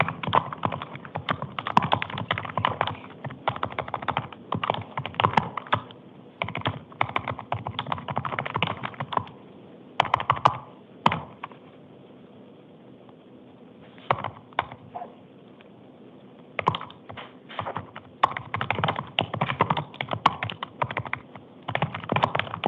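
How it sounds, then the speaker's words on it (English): Bursts of rapid key clicks from a computer keyboard in a courtroom during an initial appearance hearing in Maricopa County, Arizona, close and fairly loud, with pauses between flurries and a low room hum underneath. "I want to type something"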